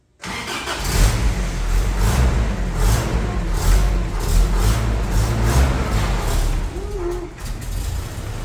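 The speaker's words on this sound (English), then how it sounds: "Alright, starting with the clutch in." An old 1984 Toyota pickup engine turns over with the clutch held in and settles into a steady, close, rumbling run, with no talk in the clip.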